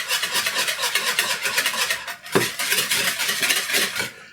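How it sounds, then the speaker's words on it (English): Melted butter being whisked into cake batter for an apple walnut ginger coffee cake, a rapid rhythmic metallic whisk rattling against a bowl, close and steady with a brief pause midway. "Then I'm going to whisk that melted butter in there."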